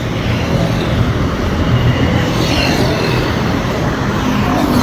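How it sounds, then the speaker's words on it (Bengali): A metro train in Bangkok rumbles past loudly and continuously, a dense roar of wheels and motors holding steady for several seconds. "এটা মেট্রো যাচ্ছে"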